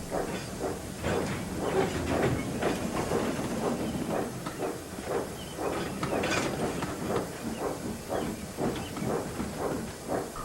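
Steam train engines haul passenger coaches toward a village harvest festival, a steady rumbling hiss with rhythmic chuffing and clattering wheels, continuous and fairly loud with no talking.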